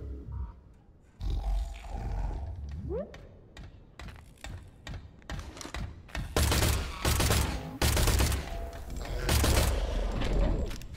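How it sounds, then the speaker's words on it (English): Submachine gun firing in the Industria video game, rapid bursts of loud shots in clusters with short gaps, mixed with grunts and game noise. "just testing the old SMG out"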